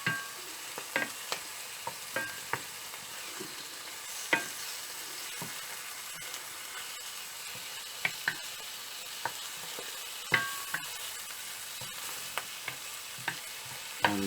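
An oyster-stuffed steak frying in a pan, a steady low sizzle with scattered clicks and light scrapes from stirring or turning, close and quiet, without any talk.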